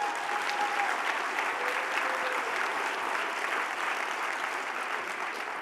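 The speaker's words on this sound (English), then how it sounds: "Can we clap it up for that again?" An awards ceremony audience claps in a dense, even wash of applause that holds steady for nearly six seconds, with no voices over it.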